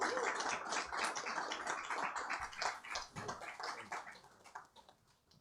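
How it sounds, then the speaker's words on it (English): Loud, dense applause from a large crowd at a track and field championship opening ceremony, steady through most of the stretch before thinning and fading toward the end. "please join me in a loud round of applause"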